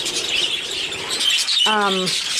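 Small birds chirp and tweet steadily in the background, and near the end one louder, clear, harmonic call sounds close by.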